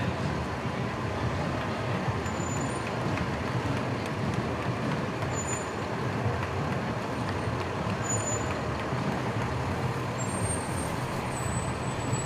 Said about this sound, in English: Truck 55 as well, heading to the reviewing stand from North Bennington.